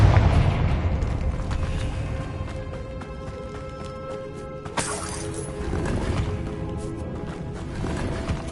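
A Confringo spell blast in Hogwarts Legacy, a deep booming explosion with magical crackle rising midway through steady game ambience and music, with no talking.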